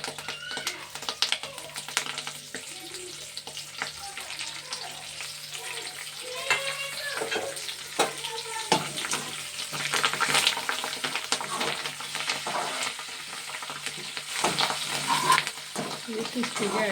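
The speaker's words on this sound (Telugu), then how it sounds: "కరివేపాకు వేస్తున్నానండి." Curry leaves hit hot oil in a pan and sizzle, a dense crackling fry that carries on steadily with occasional clinks and stirring noises, no voices over it.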